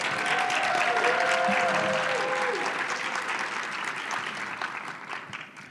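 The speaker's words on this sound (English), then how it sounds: "If we can give them a round of applause, please." Conference audience at an association's closing session breaks into sustained applause, a thick, steady clatter of many hands that gradually thins out, with a faint voice briefly audible early on.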